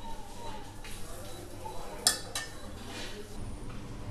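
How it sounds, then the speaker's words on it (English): A spoon stirs amla pieces through thickening sugar syrup in a pot over a low flame, giving scattered quiet clinks and scrapes against the metal, with faint talk in the background. "We have to stir the amlas and sugar syrup on and off."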